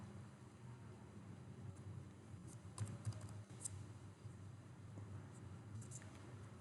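Keys clatter on a computer keyboard in scattered, irregular bursts. The tapping is soft and close against a low background hum, with a voice faintly present.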